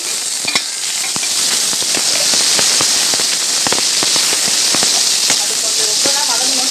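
Tomatoes with ginger garlic paste sauté in a hot pan, a loud close crackling sizzle with frequent sharp pops and spatters throughout.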